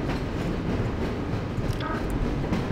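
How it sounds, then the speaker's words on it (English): A train from Half-Life: Source rolls steadily along rails with a continuous, loud rumble and faint clickety-clack, with a brief higher metallic tone partway through. "That's a surprisingly strong train."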